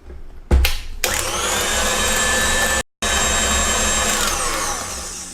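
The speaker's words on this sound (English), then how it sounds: "So that means we need to whisk a bit more." An electric whisk whips homemade marshmallow mixture with a loud, steady high-pitched whir, starting after a few clunks, cutting out briefly for a moment, then resuming at full speed.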